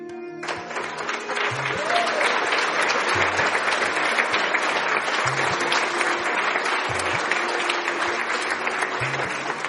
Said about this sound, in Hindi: दरबार में तेज ताली गूंज उठती है।